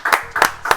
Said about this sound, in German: ich würde sagen, Applaus für den Suter.